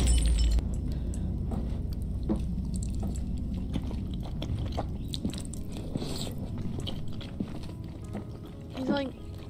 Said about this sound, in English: still making chewing noises?